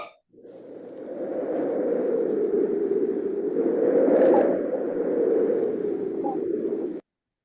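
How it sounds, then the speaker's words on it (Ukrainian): Steady broadband whooshing wind blows for several seconds, swelling slightly in the middle before stopping abruptly. "Вітер"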